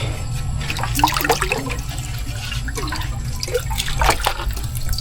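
Water splashes and trickles steadily into a cooking pot of eel adobo, with scattered drips and a low background hum throughout.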